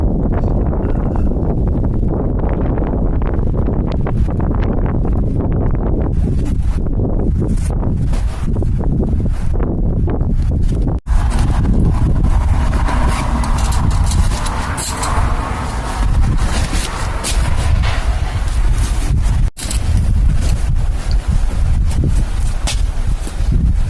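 Wind buffets the microphone at a wet, windy wild campsite in Scotland, a loud continuous roar with gusty surges and rustling throughout, broken by two brief dropouts.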